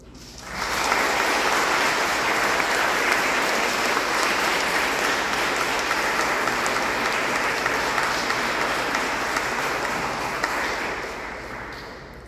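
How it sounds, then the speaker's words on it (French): A church congregation applauds a man's son during a Mass for unclaimed dead of the street, a steady, full wash of clapping from many hands that holds for about ten seconds before tapering off. "Je voudrais qu'on l'applaudisse."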